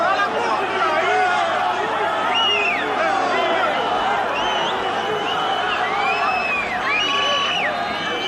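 At a 1991 Rugby World Cup match between France and Canada, a packed stadium crowd roars continuously and loudly, with whistles and shouts rising out of the dense wall of noise while a commentator talks over it.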